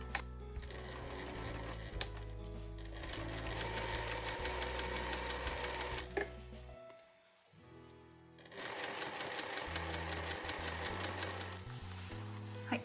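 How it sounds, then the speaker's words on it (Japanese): A Juki SL700EX industrial sewing machine stitches in a fast, steady mechanical rhythm, stops briefly near the middle, then runs again at the same close, even pace. "今回は重機の職業用ミシン SL700EX を使用します。"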